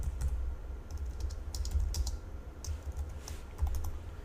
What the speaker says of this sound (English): as I continue typing here